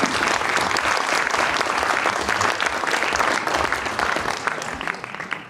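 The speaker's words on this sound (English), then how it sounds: "please join me in an applause for all our panelists and speakers" A conference audience at a steel industry climate policy forum gives sustained applause to panelists and speakers, a loud, even wash of many clapping hands that tapers slightly at the close.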